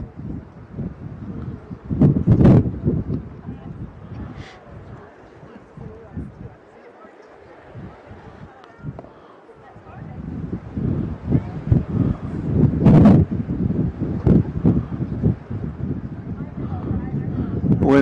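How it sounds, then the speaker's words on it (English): Gusts buffet an outdoor microphone at a high school baseball game, rumbling and swelling in strong waves before easing and building again, with a voice commentating over it. "The wind's starting to pick up again."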